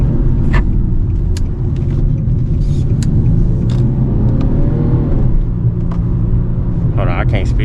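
A low, steady engine rumble comes from a modded Infiniti G37 heard from inside the car, continuous and fairly loud, with faint voices and light clicks now and then over the drone.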